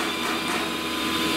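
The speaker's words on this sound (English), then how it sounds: "Now we can switch on the vacuum pump and vacuum suction to hold the MDF sheet" Vacuum pump on a CNC saw-blade cutting machine runs to hold an MDF sheet by suction, a loud, steady mechanical whir and hiss that holds constant throughout, with no voices.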